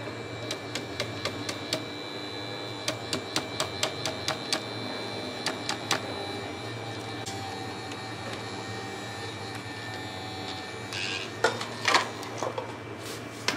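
An electric mixer beats nastar cookie dough with a steady, close motor whine, punctuated by rhythmic clicking and tapping from the beaters striking the bowl. No one speaks.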